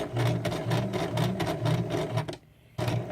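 A sewing machine stitches a tote bag, running with a fast, steady mechanical whir. It stops briefly near the end for the switch to reverse, then starts up again close by.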